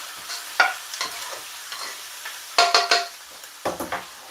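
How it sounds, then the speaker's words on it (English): Leftover chilli being reheated in a pan, stirred with a utensil in several distinct scraping strokes that clink against the pan, over a low sizzle, close and fairly loud, with no voices. "Then I'm going to add the rest of my chilli to heat it up from what I had left over from yesterday."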